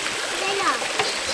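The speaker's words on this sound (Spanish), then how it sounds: "Nace bastante agua aquí, va." Water gushes steadily from a natural spring where someone has come to fill up, a close, continuous broadband rush with a faint splashing texture and no clear pauses, while a voice murmurs softly underneath.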